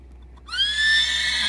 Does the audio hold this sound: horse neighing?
yes